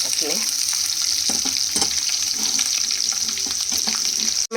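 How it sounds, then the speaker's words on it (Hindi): Onions fried over high heat in mustard oil make a steady, close sizzle with crackling and occasional stirring scrapes, running throughout with no talk. "ये मैं तेज आंच पे भून रही हूँ। प्याज भून रहे हैं"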